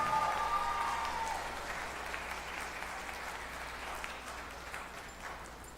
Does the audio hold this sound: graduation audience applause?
yes